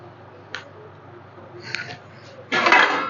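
A metal lid settles onto a cooking pot holding green chillies: a few light clinks and taps, then a louder, longer clatter and scrape as the lid goes on, close by and with no talking.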